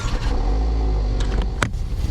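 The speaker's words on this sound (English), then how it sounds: "When you start your car, it should sound something like this." A car engine cranks and catches in a normal start, settling into a steady low idle rumble, close and loud, with a brief sharp burst near the end and no talking.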